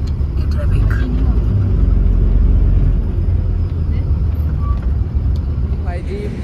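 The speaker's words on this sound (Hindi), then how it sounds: "देख लो भाई ये ट्रैफिक।" Road traffic of cars and trucks, a loud continuous low engine rumble with vehicles passing close by, and voices faintly audible in the background.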